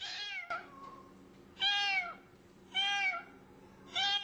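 A laboratory kitten at a research hospital gives several high, thin meows in a slow sequence, each short and plaintive, with quiet pauses between them.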